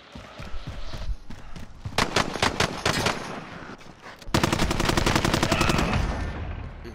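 Gunfire in Call of Duty: Modern Warfare rattles close and loud in rapid automatic bursts, a short volley and then a longer sustained string, with scattered single shots in between.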